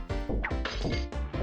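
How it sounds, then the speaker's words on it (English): Mr. Potato Head shatters when hit in a Toy Story video game, giving loud, rapid smashing and whacking crashes packed tightly together in a short burst. "the fact that he just shatters is what's really good for me."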